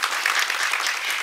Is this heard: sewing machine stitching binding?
no